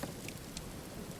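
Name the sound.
rain in the video game Rising World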